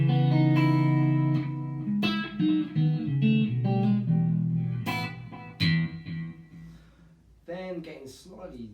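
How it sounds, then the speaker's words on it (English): A clean electric guitar through a Marshall CODE digital amp plays chords and single notes, each ringing out with echoing delay repeats and a wash of reverb that trails off between phrases. "got some more delay. Delay and reverb."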